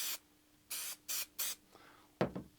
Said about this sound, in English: I will spray this one again, running the opposite way.